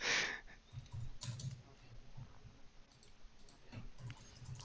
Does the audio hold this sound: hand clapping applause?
no